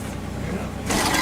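A 1966 Mercury Comet Capri engine runs low and rough as it nearly stalls, a close, steady rumble that ends in a brief louder rushing swell.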